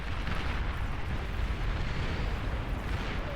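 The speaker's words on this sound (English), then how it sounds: "And here in the middle, another nuke launch landing. Big, beautiful explosion out from Ragna." Nuke landing in the real-time strategy game Beyond All Reason, a long rumbling blast with dense low roar and crackle, loud and continuous across the whole span.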